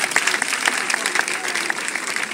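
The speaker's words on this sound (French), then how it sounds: "Mais ça s'applaudit, non?" Crowd applauding at a village chief's enthronement ceremony in Côte d'Ivoire, a brisk burst of many hands with sharp individual claps standing out, fairly close and loud, with some voices mixed in.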